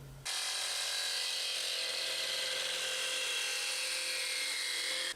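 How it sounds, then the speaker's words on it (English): A jigsaw fitted with a plastic-cutting blade saws through a plastic cone: a loud, continuous buzzing whine that starts abruptly, holds steady for about five seconds close by, then cuts off. "I'll be using a plastic jigsaw blade"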